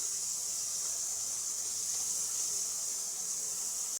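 Chopped onion and garlic go into hot oil tempered with black cumin and fennel seeds, giving a steady, even, close sizzling hiss that continues unbroken.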